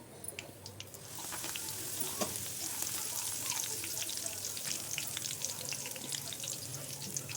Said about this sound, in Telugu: పచ్చిమిరపకాయలు ఇంకా 5-6 కరివేపాకు రెమ్మలు కూడా ఫ్రై చేసుకుంటున్నాను.